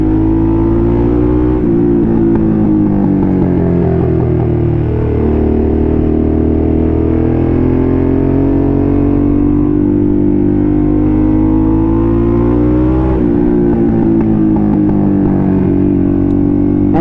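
A Harley motorcycle engine rumbles close up while riding, a deep steady roar that swells into revs near the start and again late, with no talk over it.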